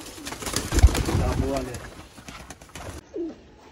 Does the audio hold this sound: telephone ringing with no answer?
no